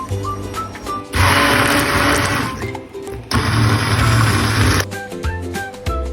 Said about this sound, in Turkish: Sonra blenderdan geçiriyorum.